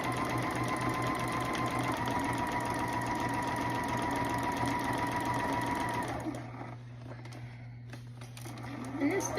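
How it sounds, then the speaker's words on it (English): A Juki HZL-F600 domestic sewing machine stitches a denim jacket in a steady, fast mechanical whir with an even rhythmic needle chatter, running loud and close for about six seconds before stopping, followed by quieter handling noises. "HZL F600 Juki, it's not a bad machine."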